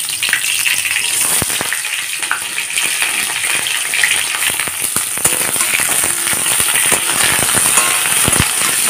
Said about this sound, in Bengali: ডাঁটাগুলোকে হালকা ভেজে নেব।